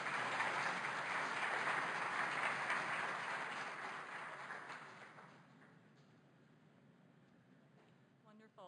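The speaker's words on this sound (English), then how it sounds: "I think that's another round of applause." Audience applause after a talk at a primary immunodeficiency and hepatology conference, a full, sustained burst of many hands clapping that gradually thins and fades out over several seconds.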